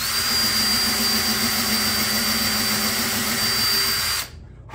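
A power drill drives a screw through a knot in wood, a loud, steady, strained whir with a high whine that runs unbroken for about four seconds and then cuts off abruptly.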